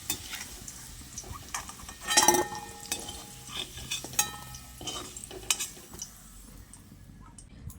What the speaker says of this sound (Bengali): আলুগুলো আমি এরকম লালচে করে ভেজে তুলে নিচ্ছি।